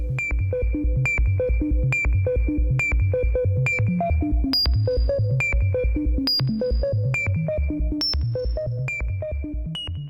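A Cwejman SM-1 synthesizer module plays a sequence of sine-wave bleeps, about a dozen short pitched tones in a steady rhythm with low percussive thumps beneath, some notes jumping higher, clear and close with no voices.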